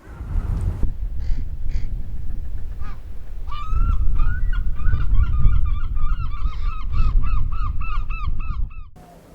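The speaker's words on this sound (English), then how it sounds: "Realised how much noise ravens make, especially the young" Nesting ravens, adults and young, call loudly and near: scattered harsh croaks at first, then a rapid, repeated series of raspy begging caws that continues for several seconds before stopping abruptly.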